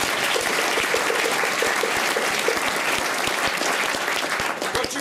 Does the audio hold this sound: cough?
no